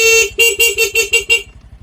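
A motorcycle horn on a motorcycle that won't switch off with the ignition key off honks, one longer blast followed by a quick series of about six short, evenly spaced beeps, loud and close.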